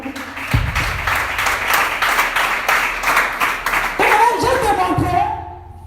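Audience in a church sermon applauding, dense continuous clapping from many people, fairly loud, with voices and shouts rising toward the end as the clapping fades.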